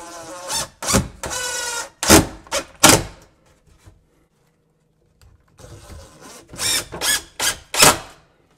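A power drill drives drywall screws into a wooden built-in cabinet, giving several loud, close whirring bursts, a quiet pause, then another run of short bursts.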